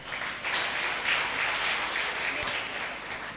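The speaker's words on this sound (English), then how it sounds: "Please clap for yourself." Audience applause at a film awards gala in Northern Uganda, a loud, dense, continuous wash of clapping filling the whole stretch, with a bit of voice blended into the crowd noise.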